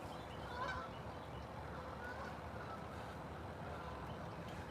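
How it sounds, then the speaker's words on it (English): Geese honk faintly in the distance over steady wind and water noise at an outdoor fishing spot, a few scattered calls that stay low beneath the background. "Here comes some geese."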